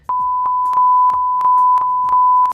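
A steady, loud censor bleep tone held across a spoken stretch, broken by short clipped syllables poking through at regular intervals, with no clear speech left audible.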